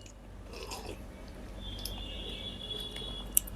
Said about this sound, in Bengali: এই চুমুক দিয়ে ডাল খেতে যা লাগে না